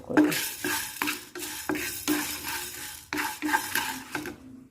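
Urad dal and peppercorns fried in a pan, with a spoon stirring and scraping in a steady series of clattering strokes over a faint sizzle, with no voices.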